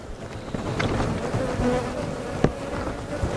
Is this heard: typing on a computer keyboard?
no